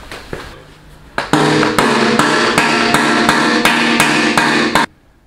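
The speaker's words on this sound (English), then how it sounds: "get a hammer." A steady run of loud, sharp hammer blows, roughly evenly spaced, ringing close by after a few lighter taps, while working on a shock on a VW trike.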